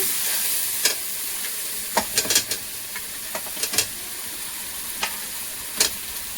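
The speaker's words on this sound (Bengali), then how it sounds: "আলুটা ভেজে নেব।" Potatoes frying in spiced oil, a steady close sizzle with repeated sharp scrapes of a spoon stirring against the pan, heard alone without voices.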